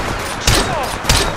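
Gunfire in the Apex Legends battle royale game, two loud, close bursts of shots over a steady noisy background, each hitting hard and fading quickly.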